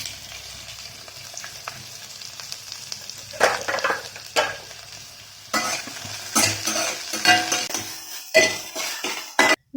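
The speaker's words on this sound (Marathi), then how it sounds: "आपण आता थोडं तेल घालूयात आणि यामध्ये आपल्याला आपला कांदा भाजून घ्यायचा आहे" Onion frying in a little oil for a Maharashtrian maswadi rassa, with steady sizzling, bursts of stirring and spoon scrapes against the pan, and occasional clinks of utensils close by throughout.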